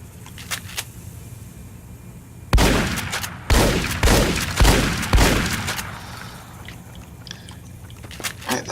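Gunfire in the video game Fallout: New Vegas, Old World Blues DLC: a run of five heavy, booming shots about a second apart, each with a trailing echo, between quieter stretches.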